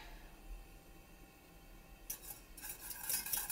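Whisk stirring crème anglaise in a pan, soft at first, then brisk scratchy strokes grow louder and busier near the end, close up.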